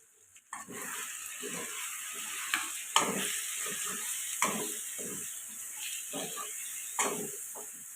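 Chicken pieces with biryani masala are stirred in a pan for chicken dum biryani, a soft sizzle under repeated close scraping strokes of the spoon, several sharper clacks against the metal.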